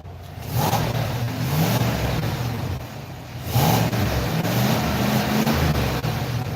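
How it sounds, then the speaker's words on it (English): GMC Denali engine revved hard twice, each rev surging loud and close then falling back to a rumbling idle, with no talking. "And then give it a good rev."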